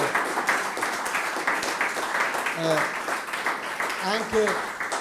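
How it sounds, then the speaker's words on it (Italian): Applause from an audience at a book presentation for an author, steady moderate clapping under a voice talking, with brief vocal sounds partway through. "fategli un bel applauso"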